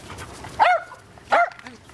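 Dogs in a family home bark twice, two sharp, close barks spaced under a second apart over a quiet background.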